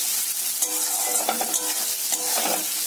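Green chillies frying with potatoes in a pan, a loud close sizzle with repeated spatula stirring and scraping strokes, no speech.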